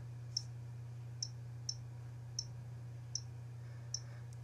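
Soft, sparse clicks from an iPod touch on-screen keyboard sound at irregular intervals during typing, faint over a steady low electrical hum.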